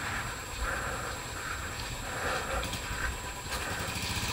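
A motorcycle engine running at idle before a Sunday group ride, a steady close rumble throughout with no clear pauses.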